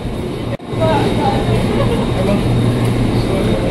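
An INKA-built KRL electric commuter train stands at platform 10 of Jakarta Kota station, a steady low rumble and hum filling the space after a brief dropout, with crowd murmur around it.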